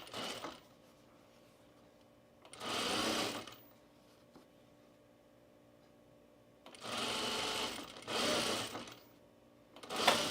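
A sewing machine stitching binding onto a boxy bag handle runs in three bursts, one short and two longer, with brief stops between, close and clear against a quiet room.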